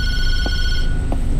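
A telephone rings inside a horror video game, a steady electronic tone that holds loud and close for most of a second, then cuts off, leaving low background rumble with faint thumps.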